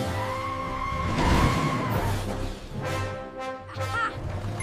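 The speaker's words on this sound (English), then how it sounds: "It's too steep. The tires can't get a grip." Cartoon monster truck tires spinning and slipping on a steep slope, squealing and skidding with a rising whine and rumbling engine, surging in a couple of bursts.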